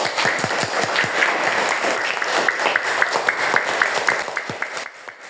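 Students in a junior high school classroom clap together during a science lesson, a brisk, uneven patter of many hands close by that continues for several seconds before thinning out.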